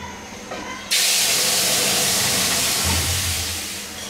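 Boiled jute leaves are poured into hot oil with mustard seeds, setting off a sudden loud, close sizzle that holds as a steady hiss and eases slightly toward the end, with no talking.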